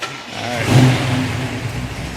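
A car on a chassis dyno, fitted with a 1-inch 4-hole spacer, fires up and revs, producing a loud, close engine roar that swells and then holds steady for a couple of seconds with no talking.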